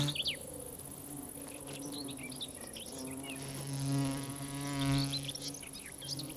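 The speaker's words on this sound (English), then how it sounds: "The bee wolf is a digger wasp that specializes in killing bees." A bee wolf digger wasp buzzes close by in a steady drone that swells louder twice, with faint chirps in the background.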